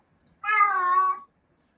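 A pet cat lets out a single loud, drawn-out meow close by, lasting nearly a second against an otherwise quiet room.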